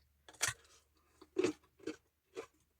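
Crunchy pizza cooked in a saucepan being bitten and chewed up close, four short crisp crunches spaced apart against near silence.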